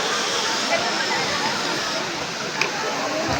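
A continuous, dense rush of falling water at Daranak Falls in Tanay, Rizal roars steadily, close and loud, with no pauses.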